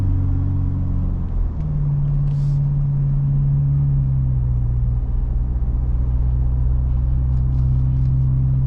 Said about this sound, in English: Give it some gas to go up this hill here.